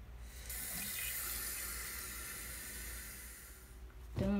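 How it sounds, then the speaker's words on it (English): Bathroom tap turned on for handwashing: a steady, close rush of water hitting the sink that runs for a few seconds, then a clunk of handling at the end. "gotta wash my hands."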